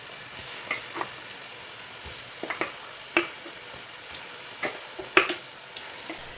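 Marinated chicken tipped into a frying tomato masala for biryani and stirred: scattered utensil clacks and scrapes over a soft, steady sizzle, with no talking.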